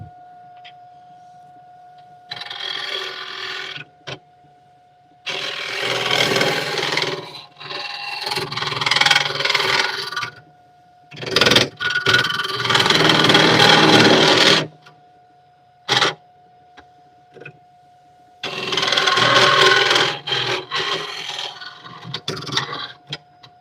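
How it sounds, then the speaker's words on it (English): A lathe being shifted across a wooden tabletop, heard as several loud bursts of grinding, scraping drags separated by pauses, with a couple of short knocks and a steady faint hum underneath, close by and without talk. "So I'm actually going to move my lathe down on the table"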